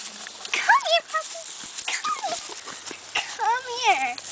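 Puppies whimper and yip in high, wavering whines, several close-up cries scattered across the clip, with faint background noise between them.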